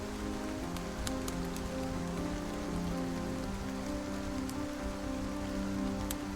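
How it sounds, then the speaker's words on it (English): Steady rain falls during a storm, a dense even hiss with scattered close drop taps, constant and unbroken with no voices. "Every drop of rain was a reminder that you were inside,"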